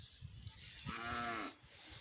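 A cow at a rural home gives a single short moo in the middle, fairly close but soft, amid quiet low farmyard background noise with no talking.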